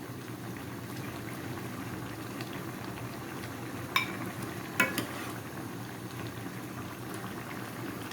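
A pot of fish curry with bottle gourd simmers steadily, bubbling softly, with two brief utensil clinks as the gourd pieces are lifted and stirred.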